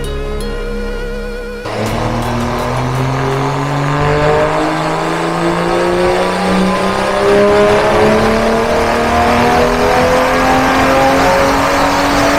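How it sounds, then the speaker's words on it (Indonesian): A BMW 435 with an Eisenmann exhaust revs on a dyno during ECU and transmission tuning, starting from a steady idle, then a sharp jump into a long, loud, rising engine sweep with no voices. "knalpot mahal. Suaranya ntar kita dengar habis ini"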